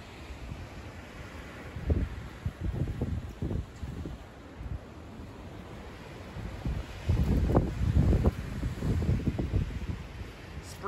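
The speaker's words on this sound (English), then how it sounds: "You guys can hear this crazy wind." Strong outdoor wind buffets the microphone in rumbling gusts that surge and fade, loudest near the end, with faint rustling behind.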